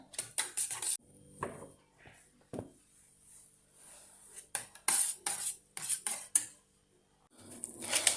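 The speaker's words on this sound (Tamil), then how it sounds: "இந்த க்ரீமை நல்லா மிக்ஸ் பண்ணி விட்டுடலாம்" A metal spoon clinks and scrapes against a bowl while cream is stirred and mixed for a cake jelly pudding, coming in sharp irregular bursts separated by short quiet gaps.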